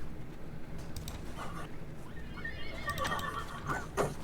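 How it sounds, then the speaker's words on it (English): A horse whinnies in a Wild West game sound effect after being shot, a shrill, wavering neigh rising near the end over a low background rumble. "Someone shot a horse, I think."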